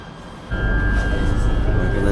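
Steady low rumble of a metro train running in Kuala Lumpur, Malaysia, with a constant high whine joining partway through; continuous and fairly loud.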